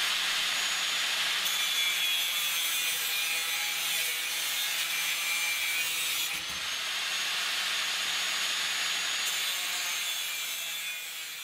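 A grinder cuts down wardrobe hanging rails with a steady, bright, harsh whine that shifts slightly as it bites, close and continuous with no talk.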